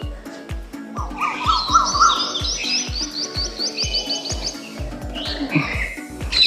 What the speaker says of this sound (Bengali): কাক কোকিল টিয়া পাখি বসে আছে দেখো নারকেল গাছের ডালে